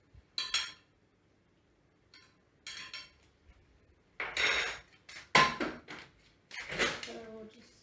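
Ingredients stirred with a utensil into melted butter in a bowl for flour-free flax bread, producing intermittent close clinks and scraping bursts, with pauses between strokes.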